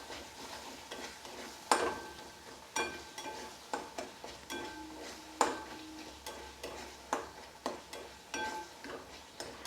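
Lentils and spinach with melted tomato, salt and sugar stirred in a pan, heard as a thick low sizzle with regular spoon scrapes and taps against the pan at close range.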